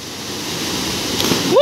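Water in a mountain swimming pool fed by fresh water churns and splashes with a steady rushing hiss, and a sharper splash near the end is followed by a brief voice.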